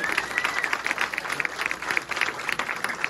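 An audience at a speedway stadium event applauds with steady, moderately distant clapping that runs throughout without a break.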